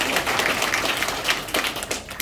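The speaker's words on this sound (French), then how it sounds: "Alors applaudissez, donc on va réussir tous en 2026." A hall audience applauds at a gathering, dense steady clapping from many hands over about two seconds, moderately loud and continuous.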